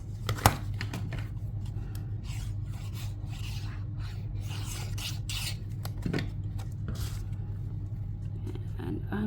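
Card stock is trimmed for handmade greeting cards, giving a continuous dry rasping and scraping made of repeated strokes. Two sharper clicks stand out, and a low background rumble runs underneath.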